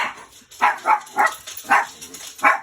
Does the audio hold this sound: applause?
no